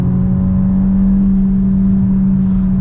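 A 180 hp Peugeot 3008 engine revving hard while accelerating in third gear, heard from inside the cabin as a loud, sustained steady hum and drone.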